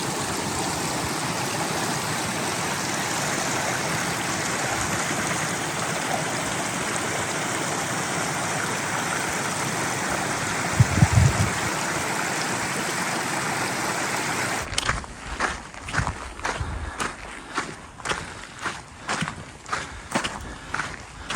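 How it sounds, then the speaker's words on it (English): Glacier-fed Adams Creek on a mountain trail rushes in a steady, loud broadband roar, then gives way to rhythmic footsteps crunching on the trail as someone walks on. "I don't know if you can hear, the background is Adams Creek"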